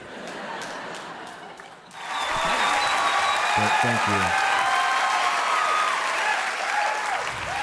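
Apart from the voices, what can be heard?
comedy club audience applause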